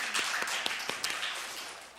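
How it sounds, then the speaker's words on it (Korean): A church congregation at an early-morning service applauding in thanks to God, scattered, moderately distant claps blending into a soft applause wash that fades by the end. "하나님 앞에 감사의 박수"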